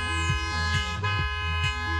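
A car horn blares in a sustained, loud honk with several rhythmic pulses, dense and close, with no talk over it.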